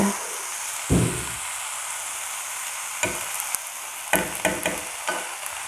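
Greens fry in a pan with a steady sizzle, and a utensil stirs them in short scraping bursts about half a dozen times, close up and with no voices.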